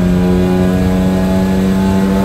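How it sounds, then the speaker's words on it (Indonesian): A BMW E36 six-cylinder car with a valved aftermarket exhaust drones steadily and loudly under load in fourth gear, a deep constant hum with rich harmonics, close up, no talking. "hasil suara knalpot dari Shokudo Exhaust yang Valvetronic. Posisi lagi gigi 4, kita gaskan"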